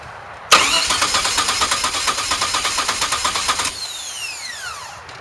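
A DeLorean's engine is cranked by the starter with an ignition fault, giving a loud rhythmic chugging of steady pulses for about three seconds that then cuts off into a fading whine, without starting.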